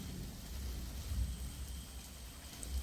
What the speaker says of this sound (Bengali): নুন দিয়ে আলুগুলো আরও কিছুক্ষণ ভেজে নেব।